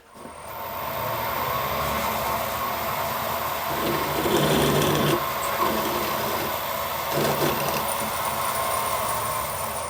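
A left-hand power drill runs steadily for the whole stretch in a steam waggon regulator repair, with a constant mechanical whine and rattle, swelling slightly louder in the middle before settling back.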